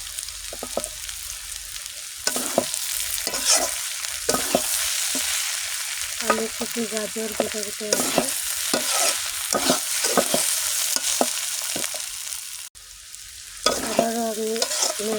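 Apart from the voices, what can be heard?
stirring mixed vegetables frying in a pan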